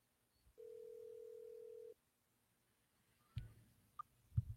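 Phone call ringing tone during an app voice call: one steady tone lasting over a second, fairly faint, followed by soft clicks and handling noises with no talking.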